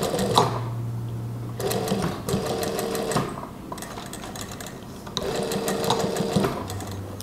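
A sewing machine stitches the button placket of a long-sleeved koko kurta, running loud and close in three steady bursts of rapid whirring with short pauses between.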